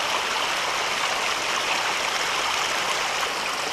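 Mountain stream in the Scottish hills running over scree beside a path, a steady, close, broadband rush of flowing water with no pauses and no voices.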